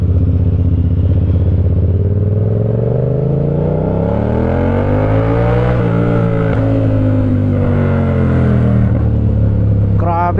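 Yamaha MT-07 motorcycle engine revving up and falling back on engine braking, a loud close growl whose pitch climbs and dips repeatedly with a crackly burble, a voice speaking faintly underneath.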